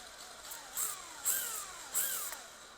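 An RC drift car motor run through a Sanwa SVG2 ESC whines in three quick throttle bursts, each pitch swooping up and sliding back down, close and fairly loud over a steady electric hum.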